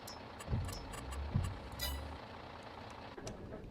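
Low rumble of a PAZ Bandit 8X8 truck engine idling steadily in Farming Simulator 22, with a few short clunks and a hiss-like burst over the constant drone.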